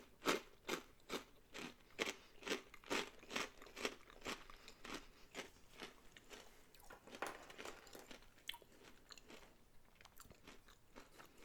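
Hot and spicy cheese whisps crunched and chewed close to the mic in a quiet room, a fast run of sharp crisp bites that gradually gives way to softer, duller chewing.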